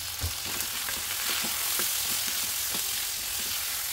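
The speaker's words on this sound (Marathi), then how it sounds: "पाया घालूयात, यामध्ये हळद मीठ घालून परतून घेऊया" Goat trotters sauté in a pan with turmeric and salt, giving a close, steady sizzle broken by repeated clacks and scrapes of stirring.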